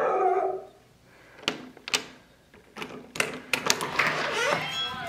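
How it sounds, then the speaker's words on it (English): A dog barks outdoors in a short irregular burst of yelps and barks, close and fairly loud, with a voice heard at the start. "Who you out there barking at?"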